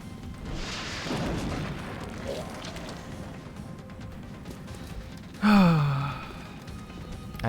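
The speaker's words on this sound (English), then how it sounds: "I'm so annoyed I'm going to use a rocket launcher." Rocket launcher blast in the XCOM Long War mod, starting with a whoosh and breathy ambience and ending in a short, loud boom near the end.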